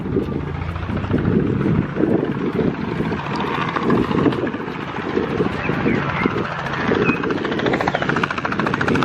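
A helicopter's rotor thumps steadily with a rumbling engine and wind buffeting close by, loud and continuous, while a voice talks over it.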